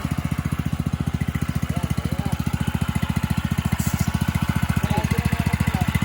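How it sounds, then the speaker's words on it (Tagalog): A small water pump engine chugs steadily nearby, a rapid, even putter that keeps going throughout. "matapos ang ilang minuto, nabuhay na ni Papa yung makina"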